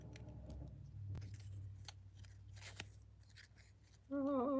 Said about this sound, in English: I should have my little scissors. They work so much better for this.